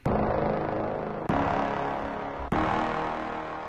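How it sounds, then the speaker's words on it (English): Sustained, droning synthesized horn chords, loud and dense, with three sharp attacks marking new chord hits about every 1.2 seconds. "This is what my horns sound like."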